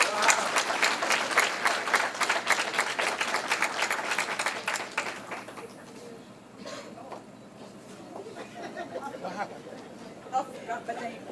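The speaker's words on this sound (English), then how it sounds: "we need to give her a big round of applause" An audience at an employee recognition event bursts into loud, dense applause for a nurse, the clapping fading after about five seconds into scattered claps and murmured chatter.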